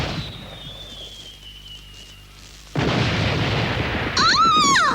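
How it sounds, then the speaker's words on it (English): Cartoon fireworks go off in an animated Moomin episode: a thin descending whistle, a pause, then a sudden loud booming burst with crackling rumble, followed by a bright fizzing, warbling sparkle at the end. "They're fireworks in your honor."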